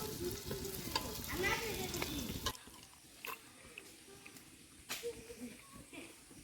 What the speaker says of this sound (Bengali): এখন পেঁয়াজ ভাজা হবে